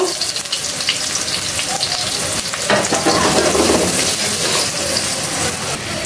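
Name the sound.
onions frying in meat oil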